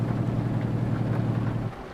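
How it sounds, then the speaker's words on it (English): A Mercedes Actros truck in Euro Truck Simulator 2 runs on its engine brake while downshifting downhill with a load of stone dust, giving a steady, loud low droning rumble that drops slightly in level near the end. "The engine brake's surprisingly effective."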